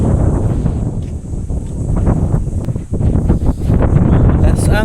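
Strong wind buffets the microphone at a mountain view deck, a loud continuous roaring rush with gusty swells, steady throughout.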